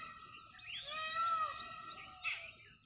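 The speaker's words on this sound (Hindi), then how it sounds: "अलग अलग पक्षियाँ बोलते हैं उनकी आवाज़ आती है" Various birds call and chirp over a calm village morning, with overlapping sweeping tweets and whistles set against a steady faint background hiss, a sharper call standing out near the end.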